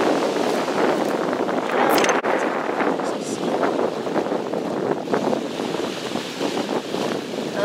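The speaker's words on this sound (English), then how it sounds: "Oh, that wind is cold." Cold wind on a seaside promenade in Carbonear, Newfoundland, buffeting the microphone as a loud, steady roar with surf-like surges throughout.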